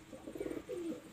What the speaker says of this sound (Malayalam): സിനാൻ്റെ പ്രാവുകളാണിത്